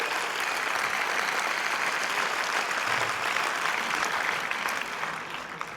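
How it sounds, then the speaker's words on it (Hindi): Sustained loud applause from a hall full of students at a JEE Main 2025 results celebration, dense continuous clapping that holds steady before tapering slightly at the end. "एक बार हाथ हवा में लहराकर जोरदार सम्मान में तालियां हो जाए"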